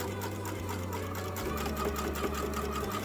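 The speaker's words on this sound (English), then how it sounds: "I'm just going to do my 1/4 inch seam allowance all the way down till I get to that corner dot" A sewing machine runs steadily, stitching a quarter-inch seam on a quilt-as-you-go dry mat with a 2.5 mm stitch length; a continuous mechanical whir and hum with low motor drone, no talking.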